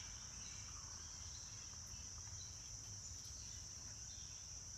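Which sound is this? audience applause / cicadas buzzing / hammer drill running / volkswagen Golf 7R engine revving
cicadas buzzing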